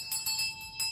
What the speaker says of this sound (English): The bell of the room you was working in, sir.